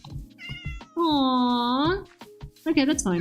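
Cats in the video game Minecraft meow in a long, rising-and-falling call followed by shorter meows, close and clear, with a person talking briefly before and after.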